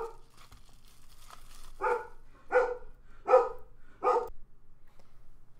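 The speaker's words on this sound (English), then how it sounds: "the dog started barking" A dog barks indoors, a few faint yips followed by four loud, evenly spaced barks about a second apart, then quiet; no one speaks.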